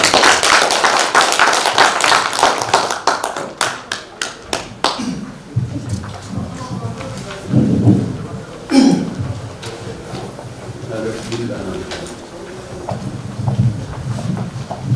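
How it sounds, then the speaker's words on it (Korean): An audience at a Korean academy lecture breaks into loud, dense applause to welcome the lecturer. The clapping fades out after about five seconds, leaving quieter room noise with scattered thumps and murmurs. "큰 박수로 맞이해 주시기 바랍니다."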